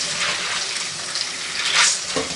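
Food rinsed under running tap water, a loud continuous rushing stream with slight surges as things move under the flow, heard alone without talk.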